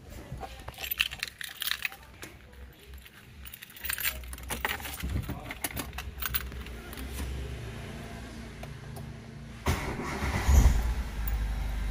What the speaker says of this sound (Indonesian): Terus tak coba hidupin mesinnya